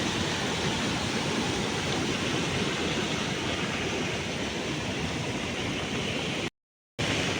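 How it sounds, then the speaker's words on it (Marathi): Loud, constant roar of the flooded Kajali river rushing past, dense and steady throughout, close by, with a short abrupt gap near the end. "पाण्याचा फोर्स बघा किती आहे तो"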